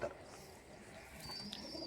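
Sialkoti high-flyer pigeons coo softly at a distance, low murmuring calls over faint background noise, with a few brief chirps near the end.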